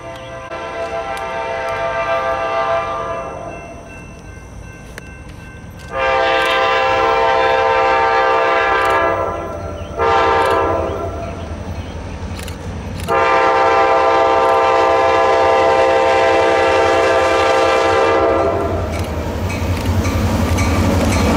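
A KCS train rumbles past beneath a bridge with a loud, sustained horn sounding in long blasts, the low roar of the wheels continuing underneath.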